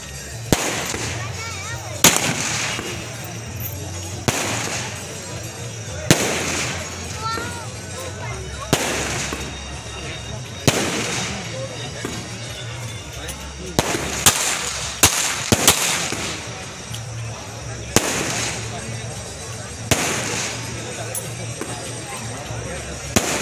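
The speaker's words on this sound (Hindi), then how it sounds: "आइए हम आपको दिखाते हैं ताबड़तोड़ हुई हर्ष" Celebratory gunfire at a wedding-related ceremony on a farmhouse grounds: sharp shots crack out one by one at irregular intervals, several in quick succession, over a steady crowd hubbub and background talk.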